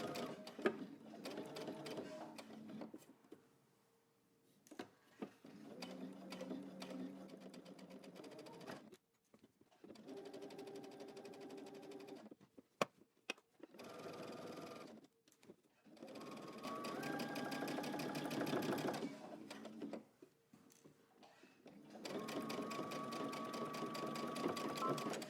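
A sewing machine stitches in the ditch along a garment waistband seam in slow, careful bursts of steady mechanical whirring, with short pauses between runs. The bursts are close and moderately loud.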